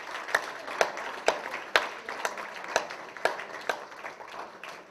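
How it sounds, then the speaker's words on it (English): An audience applauds in a medical conference hall, with a slow, rhythmic run of about ten distinct claps standing out over a softer spread of clapping, moderately loud and without talk. "A big hand of applause."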